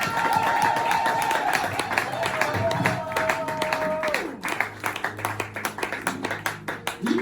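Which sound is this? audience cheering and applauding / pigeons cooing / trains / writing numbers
audience cheering and applauding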